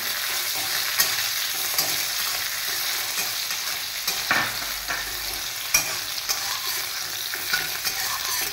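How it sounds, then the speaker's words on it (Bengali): Bell pepper fries in a pan of hot oil with dried red chillies for sabudana khichri, a steady close sizzle with occasional clinks and scrapes of stirring throughout. "এটা হালকা ভাজা হয়ে গেলে"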